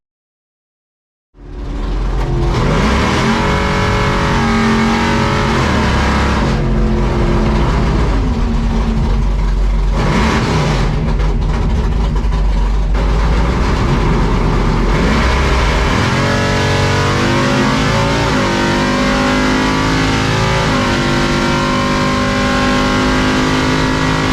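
A C10 race truck's engine roars up after a second of silence at a drag strip, blaring loud and close with rising and falling revs and gear changes over twenty-odd seconds.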